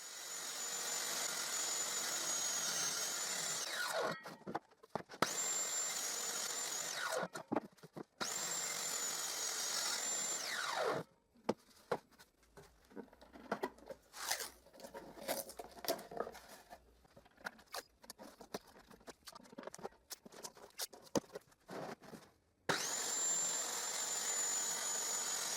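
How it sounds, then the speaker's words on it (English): A homemade table saw cuts the lid from a wooden box, its blade whining steadily in long passes broken by short pauses, with a choppier stretch of cutting and rattling in the middle. "Now I use my homemade table saw to cut the lid of the box."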